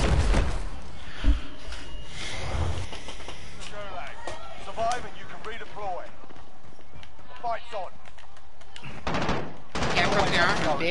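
Gunfire in a shooter video game, sharp shots and bursts scattered among constant game noise, with a heavier rattle near the end, while a player talks excitedly over it.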